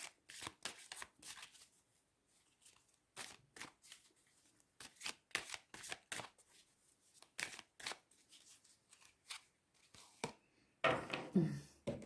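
Inspiration cards are shuffled by hand in a quiet room: a long run of quick, papery riffling bursts separated by short pauses, close and clear, ending in a louder flurry.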